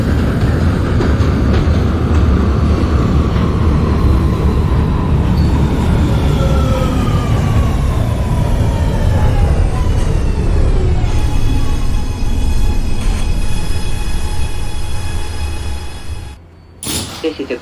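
A New York City Subway R211 train on the A line, simulated in the OpenBVE game, runs with a steady loud rumble and whining motor tones, fading and thinning near the end.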